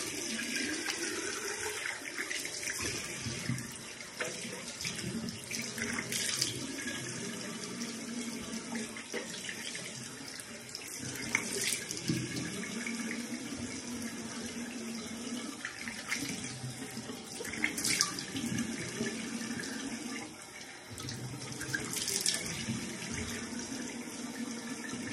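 Cool tap water runs steadily into a sink while a face is rinsed, a continuous close splashing rush with small surges and no talking.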